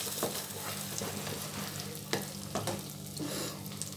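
Masala paste frying in melted butter for paneer butter masala, stirred with a few scraping strokes over a steady close sizzle.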